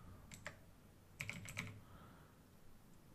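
Soft keystrokes on a computer keyboard while a Windows command is entered, a few isolated taps followed by a quick cluster of clicks, faint and close with no speech.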